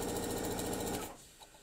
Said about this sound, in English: So I'm just stitching down this long length.